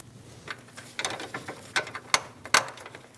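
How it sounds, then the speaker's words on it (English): While replacing the radiator on a 2016-2025 Chevrolet Malibu 1.5L L4, a series of sharp plastic clicks and light mechanical rattles ring out, with two distinct snaps near the end as an electrical connector seats into place. "Push until you hear that click"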